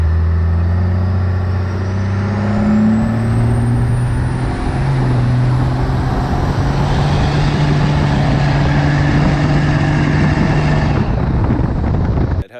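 A diesel truck fitted with a 5-inch MBRP exhaust, muffler and 6-inch tip drives at speed, a loud, deep, steady drone with shifting tonal hum and road noise, fading out at the end.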